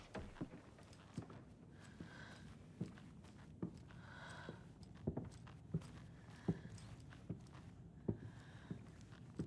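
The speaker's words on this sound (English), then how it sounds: "Why am I hearing footsteps?" Footsteps in the horror video game Alan Wake II, a steady run of soft, regular thuds spaced about half a second to a second apart, moderately close over a low ambient rumble.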